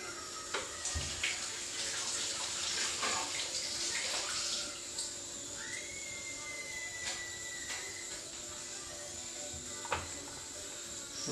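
Running tap water splashes steadily over bell peppers and bajji chillies being washed in a sink, a continuous close rush with occasional clinks and knocks, no talking.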